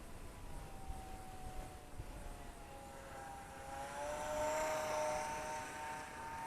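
An Eachine Mini P47 Razorback RC warbird with a 500mm wingspan flies rudder turns, its small electric motor a thin, wavering whine drifting at a distance outdoors, rising slightly as it passes, with faint wind noise.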